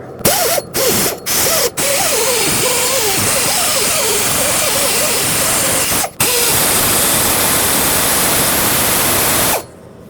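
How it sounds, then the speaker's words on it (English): A loud, steady grinding hiss from a wire wheel removing rust from a 1998-2011 Ford Ranger's front driveshaft area runs nearly continuously, with a few brief stops early on and a short gap midway. "I'm just going to use a wire wheel and just make sure it's nice and clean"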